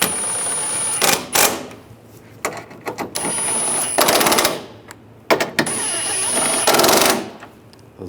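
A ratchet or power tool tightening headlight assembly bolts on a 2013-2016 Dodge Dart, sounding in several loud close bursts of rapid clicking or whirring separated by short pauses.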